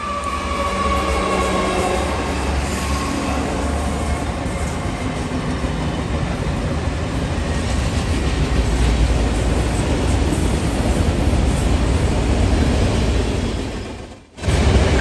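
Long NS freight train with a big cluster of locomotives on the head end rolls steadily past on the rails, a loud continuous rumble and wheel noise that holds for the whole stretch, dipping briefly near the end.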